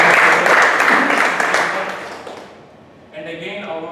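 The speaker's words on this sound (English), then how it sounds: "Give a big round of applause." Applause from an audience at a Toastmasters meeting in Mussafah: dense, loud clapping that holds for about two seconds and then fades away, after which a voice begins speaking.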